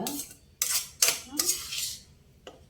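Spoonfuls of cooled chutney vegetables (tomato, cucumber pulp, cucumber, brinjal) tipped into a steel mixer jar in a Telugu home kitchen, several sharp clinks and scrapes of a spoon against metal with soft thuds between, close and fairly quiet.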